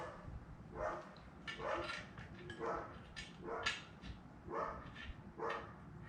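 Several dogs bark repeatedly in the distance, a series of about six spaced yaps and barks at a fairly regular rhythm, faint against a quiet indoor garage background.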